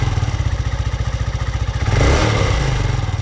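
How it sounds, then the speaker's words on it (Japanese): A horizontal-engine Honda Grom motorcycle idles with a rapid, even thumping beat and light cam chain ticking, then revs up briefly and settles back, close and loud. "横型エンジン特有のカムチェーン音が少し聞こえますが異常というほどではありません。"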